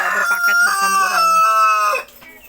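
KUB chickens in a village coop cluck and a rooster crows loudly and close, the calls stacked in a harmonic run that cuts off near the end into quieter background.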